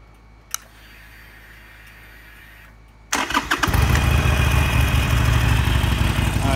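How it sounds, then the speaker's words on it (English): A 2012 Harley-Davidson Forty-Eight motorcycle starts after a quiet pause with a single click beforehand. The engine catches loudly and settles into a steady, close, rumbling idle. "And I'll start it up right now."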